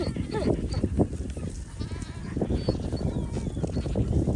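Several goats bleat repeatedly nearby, overlapping cries of varying pitch against a busy farmyard background.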